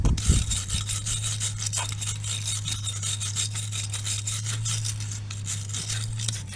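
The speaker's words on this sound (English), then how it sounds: "Go on, you can give it a scrub" A part from a broken ride-on toy is scrubbed with quick, repeated rubbing strokes. A steady low hum runs underneath, and the scrubbing stays close and constant throughout.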